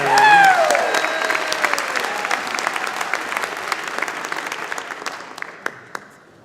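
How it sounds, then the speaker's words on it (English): Loud applause from a large crowd at a university convocation ceremony, following a big band, strongest at the start and gradually thinning out toward the end, with a few scattered claps lingering. "Round of applause for the MacEwan University Big Band"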